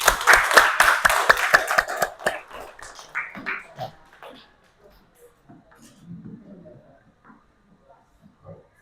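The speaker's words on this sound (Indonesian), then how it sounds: "Tepuk tangan untuk kalian semua." Students in a classroom break into a burst of rapid, rhythmic clapping that fades out after a couple of seconds, followed by scattered quiet murmuring and shuffling.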